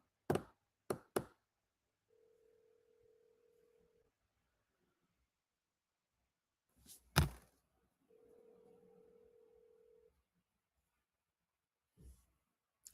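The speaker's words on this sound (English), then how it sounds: "Just phone ringing." An unanswered telephone ringing with two long, steady purring rings separated by quiet gaps, along with a few sharp handling clicks and knocks nearby, no voices.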